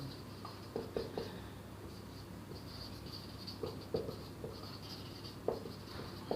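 Marker or chalk writing on a board during a math lesson on rational numbers: soft, intermittent scratching strokes and light taps at close range over faint background hiss.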